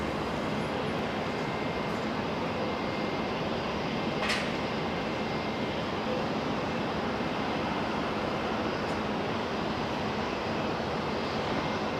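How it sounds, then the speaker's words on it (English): A Star Alliance airliner being pushed back at Auckland Airport, heard as a steady, broad engine and airport hum held at an even level throughout, with no voices over it. "Got the Star Alliance pushback now."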